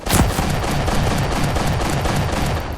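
Gunfire in the Roblox game Mad City comes as a dense, continuous rapid volley, loud and close, with shots blurring together for the whole stretch.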